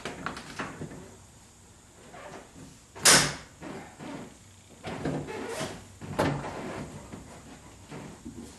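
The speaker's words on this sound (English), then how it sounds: "I'm going to close this door slowly." Door of a 1976 Corvette being swung shut slowly, with soft creaks, a sharp latch click partway through and further light knocks and rustles nearby.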